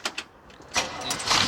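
A 1965 Chevrolet C10 truck engine cranks with a couple of short bursts, then catches into a louder, rough, steady run, heard close up.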